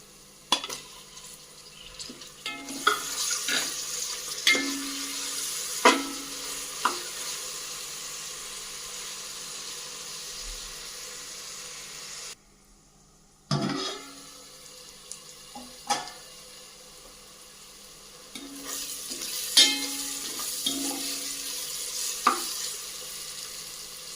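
Onions and tomatoes fry in a pan for a Telugu tomato curry, with a soft steady sizzle broken by utensil clinks and stirring scrapes, a brief near-silent gap, then more sizzling and clatter, no talk.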